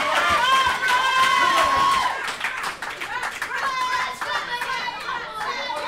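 A loud crowd at a live wrestling show cheers, claps and shouts, with many high children's voices and a commentator talking over the steady din.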